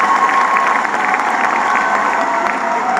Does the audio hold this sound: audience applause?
yes